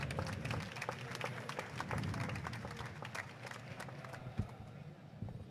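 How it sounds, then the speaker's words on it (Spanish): An audience claps and cheers at the launch of a weather balloon, a lively mix of applause with voices speaking and exclaiming over it, strongest early and then tapering slightly. "Un aplauso para el lanzamiento."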